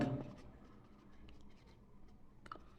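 Writing on a board during a Bengali grammar lesson: a brief scratchy burst at the start, then faint intermittent strokes and taps near the end, with no talk.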